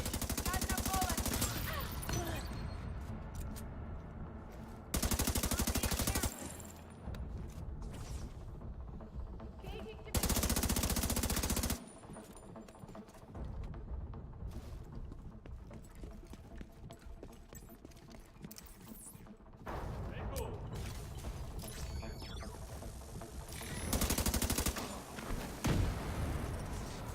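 Video game gunfire in a large building's concourses: bursts of loud rapid shots break out several times between quieter stretches, with a game voice speaking over the action.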